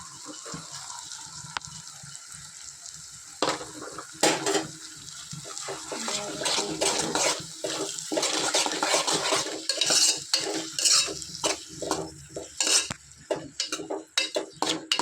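Eggs being stirred with cooked snake gourd in a pan: repeated scraping and clinking of a utensil against the pan over a low frying sizzle, irregular and close, continuing throughout without talk.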